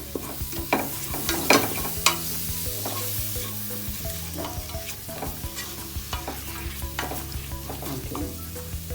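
Chopped tomatoes sauté with garam masala in a pressure cooker pan for chicken biryani, a steady sizzle punctuated by repeated scraping and stirring clinks of a spoon against the metal pan.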